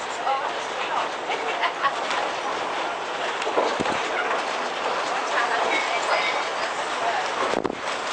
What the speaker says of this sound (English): The train, known as the Banana Express, is anything but express